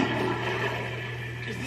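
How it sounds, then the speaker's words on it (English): A toilet flushing in a bathroom, a loud steady rush of water with a low hum underneath, filling the whole short moment without any voices. "Simon says, flush your cell phone."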